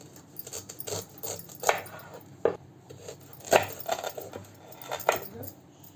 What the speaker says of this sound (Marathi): इथे आपण 3 केळी घेतल्यात. आता कापून घेऊया. देठ काढून घ्यायचा.